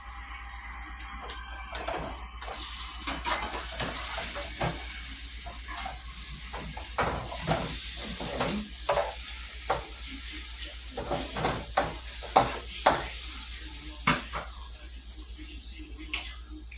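An omelet frying in a pan, a soft continuous sizzle with many sharp clicks and scrapes of a utensil against the pan, close and moderately quiet, with a faint voice now and then in the background.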